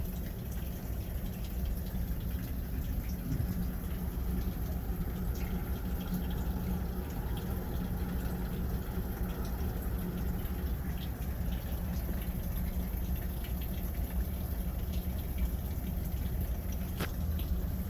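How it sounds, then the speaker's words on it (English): A few thousand litres of storm water on a flat roof drain steadily through a small 50 mm outlet, a faint, continuous low gurgling rush with occasional drips and splashes. "there is quite a hell of a lot of water on this roof, and it's only a little 50 mil outlet"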